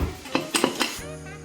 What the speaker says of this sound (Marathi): आता कुकर चांगला थंड झाला आहे आता आपण उघडून बघूया